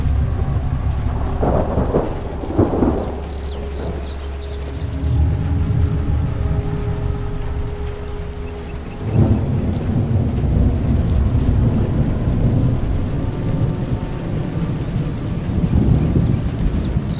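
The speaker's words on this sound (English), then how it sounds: "it rose out of the clouds with the loud sound of thunder" Thunder rolls out of storm clouds in long, loud rumbles with a sharp crack near the start and another midway, while steady rain patters throughout.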